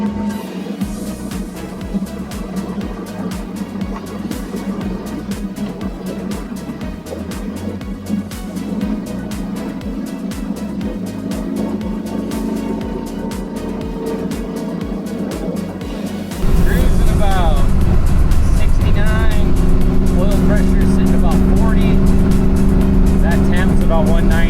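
A 1992 Chevy C1500 pickup with a swapped LS1 V8 and T56 manual transmission drives through town, its engine droning steadily and shifting pitch with gear changes, then growing louder and rougher partway through, with talking over it throughout.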